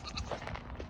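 A goat on a small farm gives a short, faint bleat that lasts under a second, heard alone without talk.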